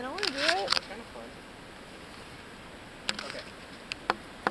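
Bees buzz around close by, a faint, continuous drone running under people chatting, with a few sharp clicks and taps scattered through.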